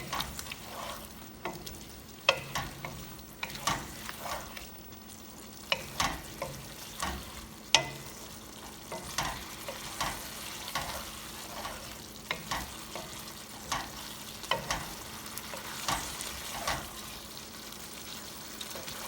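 Aloo gobi of potatoes and cauliflower cooking in a pan on high heat, a low continuous sizzle broken by regular scraping stirs every second or two, close by and fairly quiet, with no talking.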